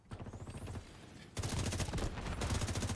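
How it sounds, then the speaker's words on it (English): Mortar shells land in a video game as a loud, dense barrage of explosive impacts. The blasts come rapid and overlapping, then swell heavier and more continuous partway through. "Mortars keep landing on my head."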